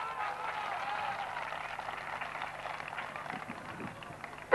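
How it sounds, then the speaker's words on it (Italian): Applause for a Colombian cyclist at a women's world championship time trial, a soft, distant, continuous patter of clapping spread across the whole stretch, fairly faint. "Un applauso anche per Tristan Lutz."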